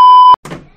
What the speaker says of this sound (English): my phone is always going off when I'm doing videos